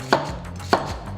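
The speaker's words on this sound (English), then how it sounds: "initial first cut, it just has a little bit of a nicer feel through the onion" Two crisp, close chops of a Zwilling Pro 8-inch chef knife slicing through an onion onto a board, each a sharp thud-and-crunch with a quiet pause between.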